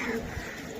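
Pigeons coo at a busy pigeon market, a brief, soft throaty call set against a dense crowd murmur.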